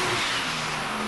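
Holden Commodore VL Calais with a turbocharged Nissan RB30 engine, with GCG turbo, running on a dyno; a steady, loud, continuous engine drone held throughout.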